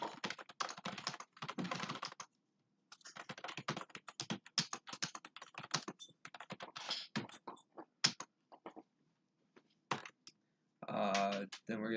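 Close, quiet clatter of fingers typing on a computer keyboard in bursts with short pauses, and a brief voice near the end.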